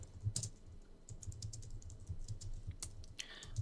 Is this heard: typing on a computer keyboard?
yes